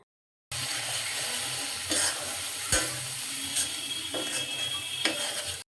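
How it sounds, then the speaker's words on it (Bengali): Spices and onions stir-fried in a pan for chepa fish bhuna, a steady broadband sizzle with occasional scraping and clinking stirs, close and continuous, with no voices. "এখন ভালো করে মশলা কষিয়ে নিতে হবে। ভালো করে একটু পরপর নেড়ে দিতে হবে।"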